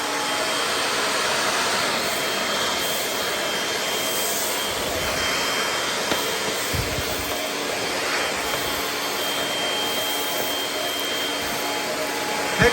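A vacuum cleaner sucks up pine needles with a loud, steady roaring whine close at hand, with a few brief rattling pickups partway through and no talking.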